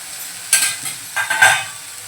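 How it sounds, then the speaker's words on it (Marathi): Dry prawns with onion being stirred in a pan for a Malvani-style dish: a few scraping stirs and soft sizzles in short bursts, close and fairly quiet, with no voices. "एकदा फिरवून घेऊया हलगर्जीने"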